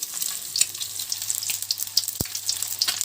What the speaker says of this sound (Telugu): చిటికెడు ఉప్పు, అలాగే చిటికెడు కారం వేసుకొని బాగా వేయించుకోవాలి